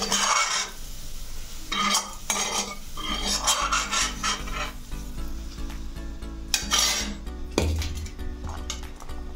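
Fried carrots scraped and shifted from a pan onto a plate, giving close rasping, scraping utensil strokes in repeated bursts with a faint sizzle beneath and no voices.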